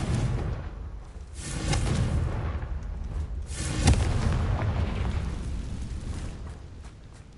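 Confringo blasting curse in Hogwarts Legacy, a game spell erupting in booming, rumbling blasts with a sharp burst near the start and another mid-clip, followed by a sustained roar that slowly fades.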